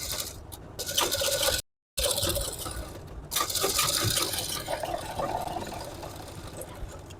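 A sewing machine stitches a belt onto a blouse in fast continuous mechanical runs with one short pause, close and moderately loud.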